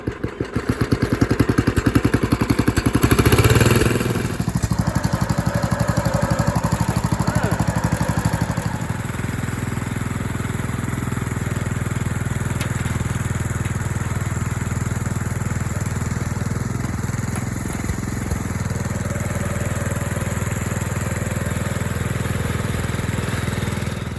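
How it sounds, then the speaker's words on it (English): An engine idles low with a steady, rough throb, loudest and most clattery in the first few seconds, then settling into a continuous even rumble close by. "Look at how low it's idling."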